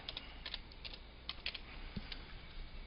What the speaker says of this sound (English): So I'm going to select my text tool, and we'll type meetthegimp.org